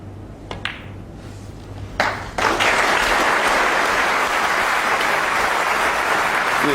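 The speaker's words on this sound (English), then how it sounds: "The applause tells you that the frame is over." Snooker audience applauding at the end of a frame in a match between O'Sullivan and Hendry: a few isolated claps and taps first, then a sudden swell into loud, sustained applause that holds to the end.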